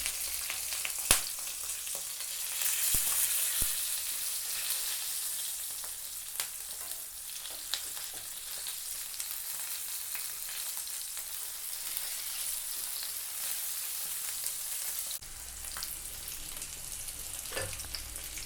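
Fish and curry leaves fry in oil with a continuous soft hiss and sizzle. Occasional faint pops and clicks sound over it, and it stays fairly quiet and even throughout.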